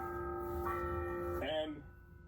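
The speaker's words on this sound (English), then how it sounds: "The bell ringing." A bell rings out in sustained, resonant tones that shift in pitch a couple of times before fading, moderately quiet and heard without other sounds competing.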